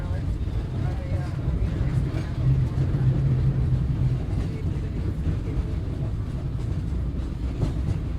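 Aboard the Disneyland Railroad steam train, holiday car 5, a steady loud rumble of rolling wheels and carriage noise fills the ride continuously, with a voice speaking over it.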